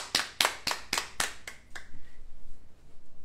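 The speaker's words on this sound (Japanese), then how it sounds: "拍手さんです" A few hands clapping at a fashion show, about seven sharp claps in a quick even rhythm that stop abruptly, followed by a quiet room with faint voices.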